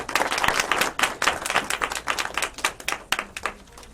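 Small audience claps for a school programs panel as the session closes, a close, uneven patter of individual hand claps with distinct sharp hits throughout.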